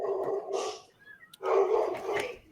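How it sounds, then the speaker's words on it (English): A dog barks in two loud, close bursts with a short gap between them, with a faint high whine in the pause. "Oh, there's a dog there. I hear a dog."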